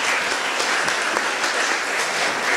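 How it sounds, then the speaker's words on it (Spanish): An audience at a history conference gives a guest a hearty round of applause, a dense, even roar of clapping sustained throughout. "Yo quiero un fuerte aplauso para él."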